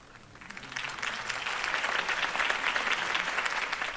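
Crowd applause after a campaign speech in Batman: The Telltale Series swells from faint to a full, steady clapping that holds to the end.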